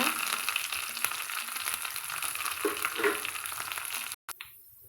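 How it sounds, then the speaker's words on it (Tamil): Shallots and curry leaves frying with mustard seeds in oil for onion leaf sambar, a steady close sizzle with small crackles and occasional stirring scrapes, briefly cut off near the end. "இப்போ நம்ம வந்து அந்த வெட்டி வச்சுக்கிற சின்ன வெங்காயத்தை சேர்த்திக்கலாங்க கருவேப்பிலையும் சேர்த்துக்கலாங்க"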